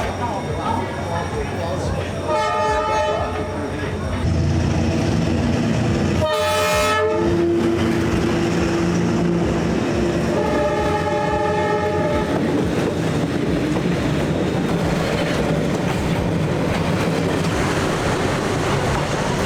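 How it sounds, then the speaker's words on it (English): A train rolls past extremely close to a restaurant table in Vietnam, sounding its horn in several loud blasts over a continuous rumble and rattle of wheels, with people talking nervously nearby. "there was like this much space between us and that train"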